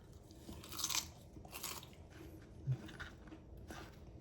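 Crunchy chewing of crispy fried pork belly, several crisp bites and munches close to the mic, separated by quieter pauses, with no talking.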